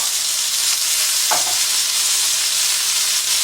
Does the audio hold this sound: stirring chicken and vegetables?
yes